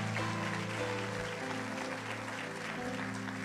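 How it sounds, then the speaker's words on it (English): Applause from a church audience, a dense wash of clapping that runs steadily for a few seconds, moderately loud and even, with no clear speech over it. "Denle un aplauso a Cristo"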